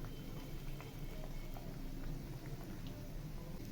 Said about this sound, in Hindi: देखिए जी ऐसे आलू फ्राई होंगे